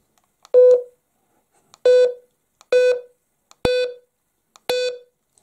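A boat's marine radio beeps as it is switched on: five short, clear electronic tones, evenly spaced about a second apart, each loud and close with silence in between.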